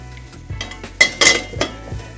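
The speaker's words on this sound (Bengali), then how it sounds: "এবার আমি এটা ঢাকা চাপা দিয়ে দেব" A lid is set onto a cooking pot of cauliflower leaves and prawns: a couple of sharp metallic clanks and rattles close by, over faint kitchen background, with no voices.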